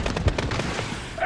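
Rapid automatic gunfire from a minigun in the PC shooter Call of Duty: Modern Warfare, a dense stream of loud bursts and booms with a dull thud near the start, carried on continuously for the whole short stretch.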